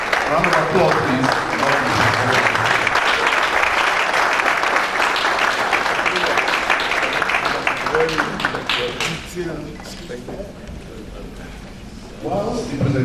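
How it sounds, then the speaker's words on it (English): Audience applause fills an estate agency conference hall, dense and steady for most of the stretch before thinning out near the end and briefly swelling again. "Round of applause, please."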